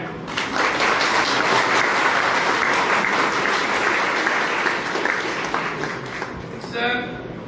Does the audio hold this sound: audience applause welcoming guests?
yes